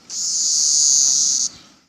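Cicadas buzz during the 2021 Cincinnati cicada emergence, a single loud, high, steady drone that swells in quickly and cuts off after about a second and a half.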